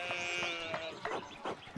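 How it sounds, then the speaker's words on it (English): Sheep bleat in Pentiment, a run of short, wavering calls repeating every half second or so, fairly faint and close together with no talk. "one of the fence rails fell and the sheep started hopping it"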